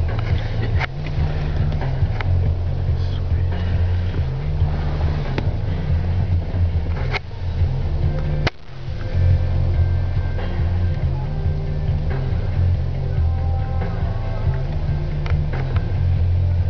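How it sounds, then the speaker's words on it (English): A car engine screams near redline in third gear while driving on snow, a sustained strained roar mixed with wind buffeting and road noise, briefly cut and resumed midway, with people's voices faintly underneath. "Third gear red line."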